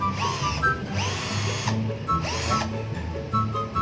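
An 18-volt Xenon CDID 1845 cordless drill whirs in short bursts, its motor spinning up to a high whine and winding down, repeated several times close by.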